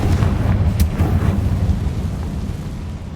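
A Confringo fire-blast spell from Hogwarts Legacy lands as a loud, rumbling explosive roar that fades slowly over a few seconds, with no voice over it.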